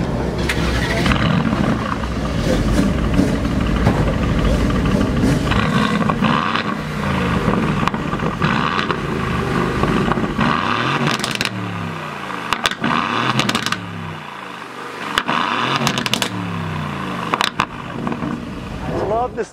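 A 2019 Aston Martin Vantage engine starts and settles into a steady idle, with throaty revving swells partway through, close and loud throughout, and speech audible over it at times.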